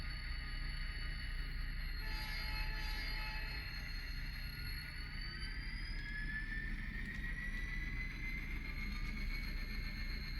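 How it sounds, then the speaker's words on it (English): An Illinois Central Gulf freight train with tank cars and a caboose pulling forward near Granite City Steel and Wood River, a steady distant rumble with faint drawn-out squeals and whines. "The tank cars are going to be left on the main with the caboose while the train continues to pull forward."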